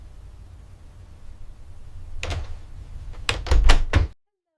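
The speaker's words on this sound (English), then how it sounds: "He notices whether doors close at different times." A door closes indoors: faint rustling and shuffling build up, then a short cluster of firm thuds and knocks lands near the end before sudden silence.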